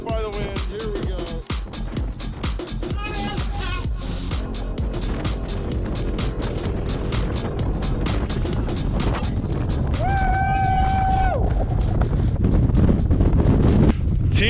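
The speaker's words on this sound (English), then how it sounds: "we're about to get smacked by the wind" Strong wind gusts hit a mountain peak high on Quandary Peak, roaring as loud, continuous buffeting against the microphone while voices call out over it.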